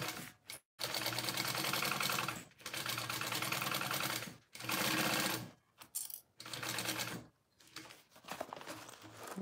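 A sewing machine stitches a quarter-inch seam on a barrel bag, running in several rapid, whirring bursts of a few seconds each, separated by short pauses.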